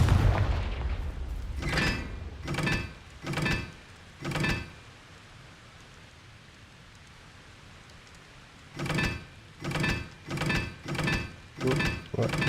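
Blasts from the Confringo fire spell in Hogwarts Legacy, a game: a quick run of four loud bursts, a quiet lull, then another rapid string of five or six bursts, each a sharp boom with a short tail.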